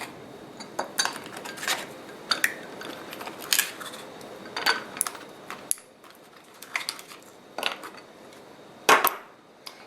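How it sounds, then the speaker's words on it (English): Ice cubes dropped into a glass of iced coffee, giving a run of sharp, close clinks and taps scattered irregularly over several seconds, with one louder clatter near the end. "Okay, now I'm going to add my ice cubes."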